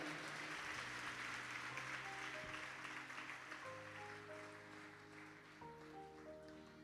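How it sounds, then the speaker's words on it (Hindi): A church congregation claps during a Hindi-language healing sermon, broad sustained applause blended with held musical tones from a keyboard underneath, gradually easing in loudness toward the end. "प्रभु के लिए जोरदार ताली।"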